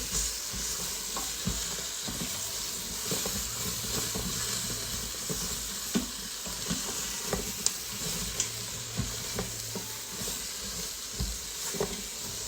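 Chopped onions and celery frying in an Instant Pot while pot roast is prepared: a steady, moderate sizzle and hiss with scattered clicks and scrapes of stirring throughout.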